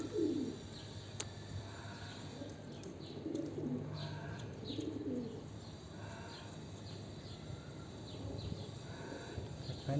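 Homing pigeons coo while being fed, soft low repeated coos from several birds close by, with faint chirps and light rustling around them.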